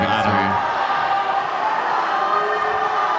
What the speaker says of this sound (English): You can hear the crowd roaring now.